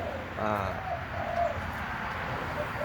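Dove cooing outdoors on a sunny morning, several soft, repeated coos rising above steady background noise alongside someone talking.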